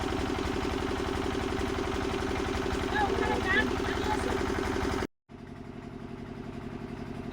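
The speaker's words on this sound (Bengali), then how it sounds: "জেনারেটর চলা শুরু হয়ে গেছে।" A steady engine drone runs throughout with a rhythmic low-pitched chug, briefly cutting out before resuming; a voice speaks faintly over it.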